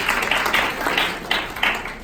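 A short burst of applause from a group, dense clapping that swells and fades in uneven waves.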